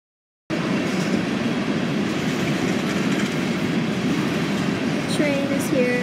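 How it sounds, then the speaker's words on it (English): A train rumbling loudly overhead, heard from below as a steady, dense roar of wheels and carriages that begins abruptly and continues throughout, with a faint squeal of wheels near the end. "There's a train just went over us."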